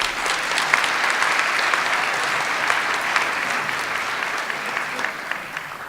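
A school audience at an eighth grade parent night claps continuously in a dense, fairly close round of applause that tapers slightly toward the end.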